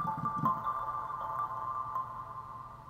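A keyboard synth patch imitating a soft wooden marimba or kalimba, with a gentle attack, delay and a huge reverb tail, plays a sustained, ringing line alone throughout.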